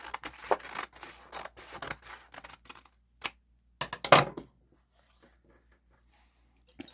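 Scissors snip through banana packaging in a string of quick close cuts, then a few sharper isolated clips with quiet pauses between them.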